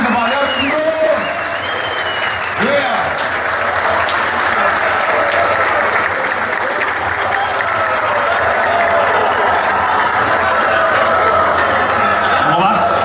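Loud audience applause fills a freestyle rap battle venue, dense sustained clapping with crowd cheers and whoops layered in, staying strong and even for the whole stretch.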